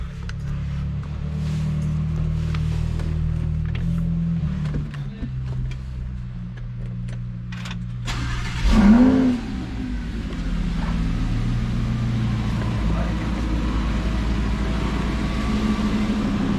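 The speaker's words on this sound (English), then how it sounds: "I need to get you guys a sound clip of the exhaust beforehand." A Lamborghini engine idles with a low, steady exhaust rumble on its stock exhaust, rising briefly in a short rev partway through before settling back to a mellow idle.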